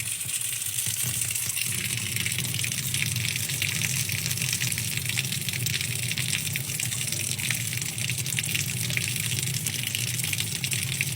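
Hot water gushes from a tap in a steady, loud, unbroken rush of splashing flow, close by and without pause or talk.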